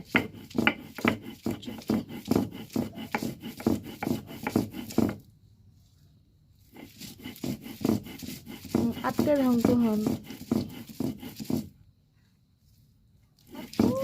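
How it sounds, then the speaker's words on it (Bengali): Dried fish bharta is ground on a flat stone slab with a grinding stone, giving rhythmic scraping strokes in repeated bursts. There are pauses between the bursts, and there is no talk. "ভর্তা বাটতেছি, পাটায় বেটে শুটকির ভর্তা খাওয়া"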